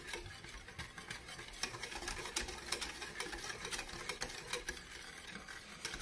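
Homemade play-doh mixture stirred in a pot as it cooks on an electric stove, giving soft, rapid repetitive scraping and ticking taps at a low level, with no talking.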